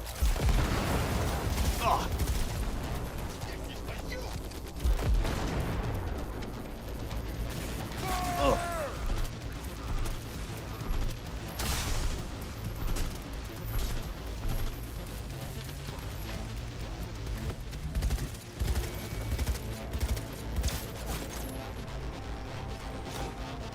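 In the Cyberpunk 2077 video game, a grenade explosion and gunfire erupt in a loud opening burst, with further booms and shots around five and twelve seconds, over steady game noise and occasional voices.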